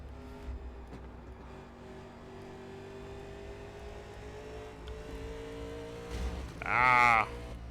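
Race car engines from iRacing NASCAR Legends at Bristol hold a steady, droning hum in the background, rising to a brief, louder harsh burst near the end, with no voices.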